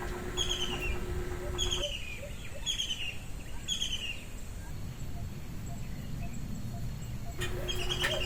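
A captive bird taken from the forest gives repeated chirping calls in short bursts, falling quiet midway before calling again, against steady background noise.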